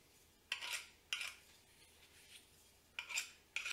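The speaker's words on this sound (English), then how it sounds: "Using a sharp knife, I trim off the excess pastry." A sharp knife trims excess pastry off the rim of a tart tin for pistachio and ginger toffee tarts, giving four brief, close metallic scraping strokes separated by quiet gaps.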